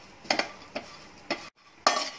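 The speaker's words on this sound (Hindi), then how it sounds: "अब इसी में ही नारियल रोस्ट करेंगे।" Fresh coconut roasting in a pan while a spatula stirs it, making four short, close scraping strokes against the metal with soft sizzling between them.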